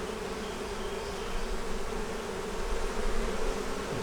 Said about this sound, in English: Got a little bee jumping around on my arm